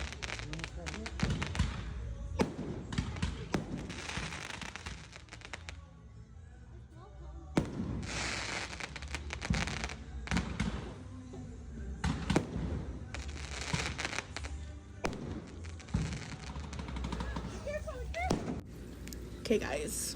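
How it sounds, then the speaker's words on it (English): Fireworks at a festival in Mexico, a dense series of loud bangs and crackling bursts close by, repeating irregularly over a steady crowd din with voices throughout. "here's like a clip of Mexico when the fireworks it was a festival, but a firework almost hit us"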